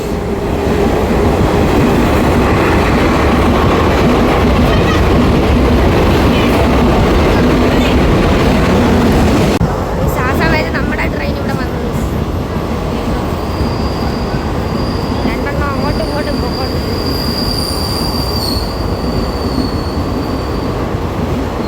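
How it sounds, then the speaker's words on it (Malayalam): Kota Express passenger train rolling on rails, a loud steady rumble of wheels and carriage noise throughout, with a squealing, brighter wheel tone joining in the second half as the ride continues. "ഇവിടെ നിന്ന് കോട്ട എക്സ്പ്രസ്സിലാണ് നമ്മൾ കൊല്ലം റെയിൽവേ സ്റ്റേഷൻ വരെ പോകുന്നത്."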